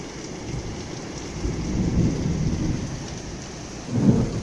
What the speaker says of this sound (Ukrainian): Падає град, правда невеличкий, але падає.